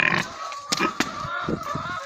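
Pigs grunting and snuffling close up while eating watermelons, short irregular grunts mixed with chewing noises and a faint high tone in the background.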